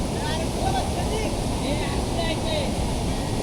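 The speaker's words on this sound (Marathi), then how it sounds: "मंडळी या साईडला बघा मस्त धबधबा असा" Steady broadband rush of the Kondeshwar waterfall in a hilly, riverside setting, a constant roar heard from a moderate distance with no speech.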